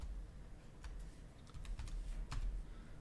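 Keys clatter on a computer keyboard during 3D design modelling work, a few quick taps and short bursts close by, faint and dry over a low background hum, with no talking.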